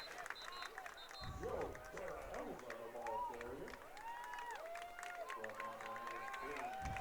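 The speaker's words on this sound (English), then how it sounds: "Crowd making some noise." A high school football crowd makes a broad, distant noise of cheering and chatter while a commentator and other voices talk over it.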